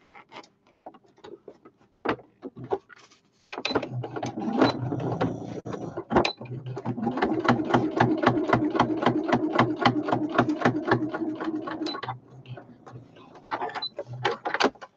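Sewing machine stitching a fabric cushion for a foot pedal, running in a fast, steady rhythmic clatter of needle strokes for several seconds, with brief starts and stops and handling noises before and after.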